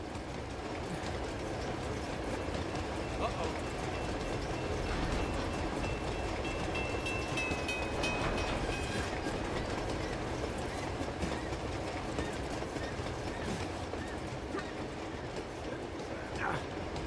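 A moving train in the video game Uncharted 2, a continuous loud rumbling roar of rolling wagons with faint clattering, steady throughout without talk.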